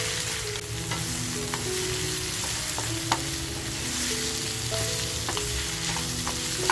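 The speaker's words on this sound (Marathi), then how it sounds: "आपल्याला मटणाबरोबर सुद्धा तो छान असा परतवून घ्यायचा आहे." Kharda masala stir-fried with mutton in a pan, a constant close sizzle with scattered scrapes and taps of a utensil stirring throughout, no speech.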